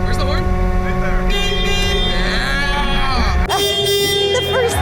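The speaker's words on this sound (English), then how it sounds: "The first thing Hunter does is the horn." Horn of a Zamboni ice resurfacing machine at an ice rink, sounding as a sustained, loud tonal blast lasting several seconds, with a brief break, over steady machine noise and people talking.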